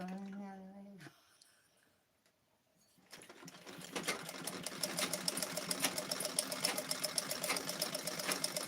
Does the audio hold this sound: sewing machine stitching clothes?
yes